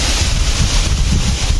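Steady, loud wind roar buffeting the microphone near Balea Falls, with a constant rushing wash of the falling waterfall underneath, no voices.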